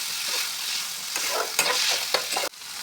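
Onion, garlic and tomato stirred and frying in a pan, a steady close sizzle broken by several scraping stir strokes, with no talking.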